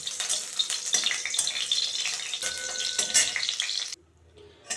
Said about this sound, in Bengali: একটু সর্ষের তেল দিয়ে দিলাম দুটো শুকনো লঙ্কা ফোড়ন দিয়ে দিলাম